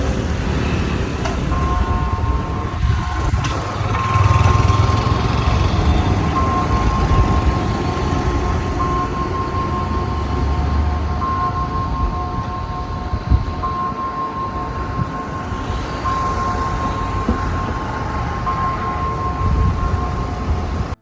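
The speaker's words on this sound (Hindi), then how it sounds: "Lot of noise from tuk-tuk. Many tuk-tuks passing by." Tuk-tuks passing near the clock tower in Colombo Fort, Sri Lanka, making a steady, loud wash of street traffic noise with engines rumbling throughout and no talking.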